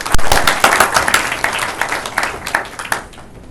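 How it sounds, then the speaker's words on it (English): A burst of applause from a modest crowd at a Taiwan–EU electric vehicle investment forum, hands clapping loudly at first and then thinning out and fading. "Give us a warm applause."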